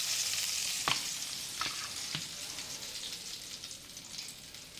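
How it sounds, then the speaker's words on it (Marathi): Pomfret fish frying in a pan gives a steady crisp sizzle, with a few sharp pops and spatters breaking through, close and continuous throughout. "आता आपण दोन्ही बाजूनी हा मासा व्यवस्थित फ्राय करून घेतलेला आहे"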